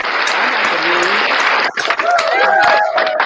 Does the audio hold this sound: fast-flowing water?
no